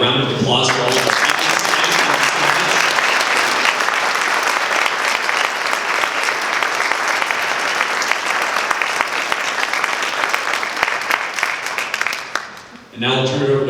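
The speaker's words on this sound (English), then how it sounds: "let's give a round of applause for all of our" A crowd at a Fountain Hills, Arizona town council candidate forum claps steadily for about twelve seconds, a broad sustained wash of applause, with a speaker's voice briefly audible at the start and again as it ends.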